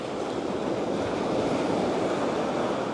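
Continuous surf from the ocean at Withernsea's seaside, a steady, fairly loud wash of breaking waves with wind rumble on the microphone and no one talking.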